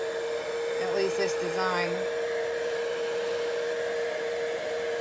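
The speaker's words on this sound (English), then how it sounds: "here's where the heat gun comes in." A heat gun drying a handmade holiday card blows with a constant whooshing roar and steady whine throughout, close and loud, while a person speaks briefly over it near the start.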